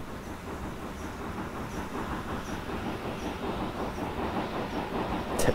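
A steam locomotive in the Train Simulator Classic video game, with snow plows, chuffs in a steady repeating rhythm over rolling rail noise at moderate volume, and a brief hiss at the end.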